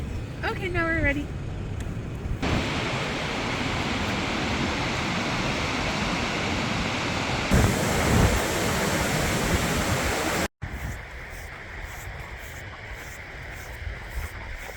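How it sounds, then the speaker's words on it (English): A steady roar of rushing water from a nearby waterfall in Iceland's Golden Circle fills the whole stretch, loud and constant, with a whistle-like tone near the start and a sudden brief cut. "we want to get a little closer to the waterfall"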